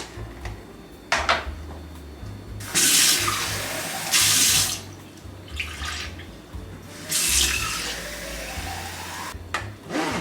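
Water gushes out in several bursts as a container is emptied into a sink at home, splashing and pouring loudly in three or four separate pours with quieter gaps between.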